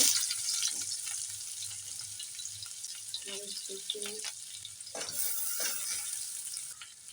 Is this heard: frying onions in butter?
yes